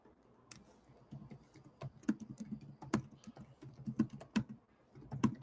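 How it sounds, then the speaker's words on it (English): Quick, irregular keystrokes tap on a computer keyboard nearby, bursts of clicking with brief pauses between words, with no talking. "I'm just typing up a couple things here for our different social media channels"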